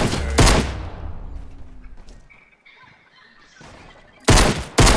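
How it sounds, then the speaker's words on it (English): Video game gunfire comes in loud, dense bursts at the start and again near the end, separated by quieter game ambience. "I'm getting shot at by three different people over here."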